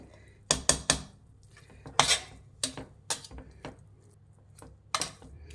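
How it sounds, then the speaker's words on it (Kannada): A spoon stirs Nati-style chicken biryani with hitikida avarekalu in a pot, with a few sharp metallic clanks and scrapes coming at irregular intervals, close and fairly loud against a quiet background. "ಮಿಕ್ಸ್ ಮಾಡೋಣ"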